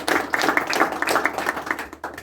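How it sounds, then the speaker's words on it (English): A modest audience claps for program coordinators at a marine bio-discovery laboratory event: a fairly sparse, uneven patter of individual claps rising and dipping, close and moderately loud, fading near the end. "I'd like to give them a round of applause"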